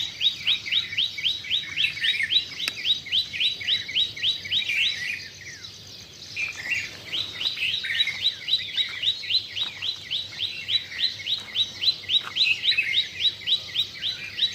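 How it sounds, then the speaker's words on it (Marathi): Busy, rapid chirping of sparrows in a wet courtyard in repeated bursts, fairly close and continuous, with a brief quieter gap midway. "चिमक्याचा किलकिलाट चिवचिवाट पक्ष्यांचा"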